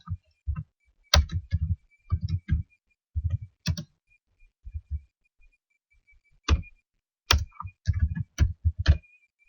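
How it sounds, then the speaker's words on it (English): Keys on a computer keyboard tap out short bursts of typing with pauses between them, close and crisp against an otherwise quiet room. "normal typing"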